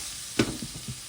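Food fries in a pan during home lunch cooking, a soft steady sizzle with a sharp stirring scrape near the start followed by a few lighter clinks and shuffles, close by and without talk.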